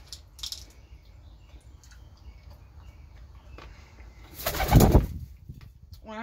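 Pigeons coo softly inside a loft, low murmuring calls repeating under quiet background noise, with a brief louder burst of wing flapping or rustling near the end.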